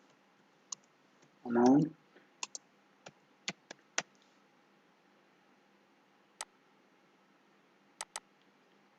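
Data being typed into Excel on a computer keyboard: sparse, crisp individual key clicks spaced irregularly over several seconds, close and quiet, with one brief spoken word early on.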